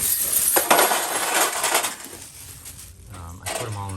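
Old rusty metal wrenches, mostly Craftsman and SK, clinking and jangling as they are handled in a bag, several close metallic rattles and chinks at uneven intervals with quieter gaps between.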